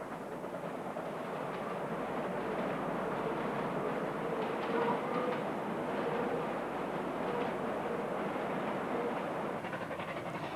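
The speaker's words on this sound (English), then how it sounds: "Here we see the train belting it out on the level section between Ceres and Prince Alfred Hamlet." A Garratt steam train runs on the level section between Ceres and Prince Alfred Hamlet, giving a steady, loud rumbling roar with faint rhythmic wheel clatter that holds for the whole stretch.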